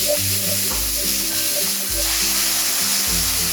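Button, shiitake and other mushrooms stir-frying in sesame oil in a pan, a dense continuous sizzle close up, with music playing underneath.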